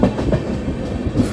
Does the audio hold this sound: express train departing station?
yes